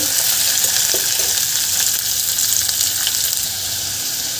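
Beetroot, carrot and tomato sautéing in a pan for soup, giving a continuous loud hiss of frying with a few faint stirring scrapes, close up.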